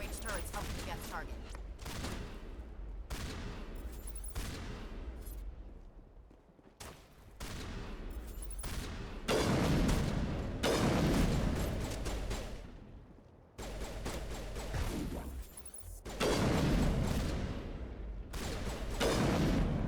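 Dense, continuous gunfire crossfire from Geth enemies in Mass Effect, loud bursts of shots and weapon fire layered into a constant battle din with no pauses.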